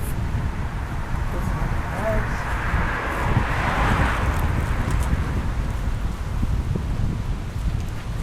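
Steady gusty wind rushes and buffets the microphone, a continuous broadband roar with no pauses.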